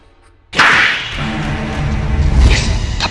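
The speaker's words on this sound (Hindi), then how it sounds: "थप्पड़ की गूंज सुनी तुमने?" A sharp, loud slap sound effect hits suddenly after a moment of quiet, followed by a lingering, echoing whoosh-like tail.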